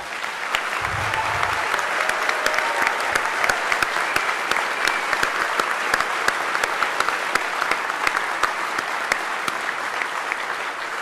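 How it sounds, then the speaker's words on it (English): An audience at the DEFCON 20 hacker convention closing ceremony applauds steadily, a large crowd's dense clapping that stays loud and even throughout. "everyone give them a round of applause"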